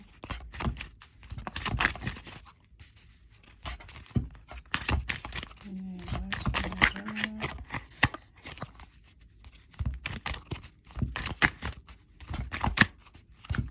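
Repeated bursts of tarot cards being riffled and shuffled, papery and close, in irregular clusters with quiet gaps between.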